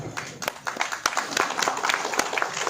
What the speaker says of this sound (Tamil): ஒரு சத்தமான கைத்தட்டல் கொடுத்து வெல்கம்.